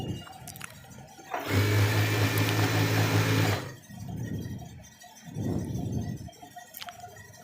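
Sewing machine stitching a coat collar, a steady whirring run of about two seconds, fairly close, followed by quieter rustling handling of the fabric.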